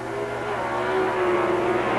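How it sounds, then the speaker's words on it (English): Pro Stock drag racing cars, a Plymouth Volare and a Plymouth Arrow, roar down the strip at a 1979 NHRA national event, a loud, steady engine howl with a slowly rising pitch and no talk. "The Plymouth Volare against the Plymouth Arrow. Glidden with a slight lead at the middle of the track."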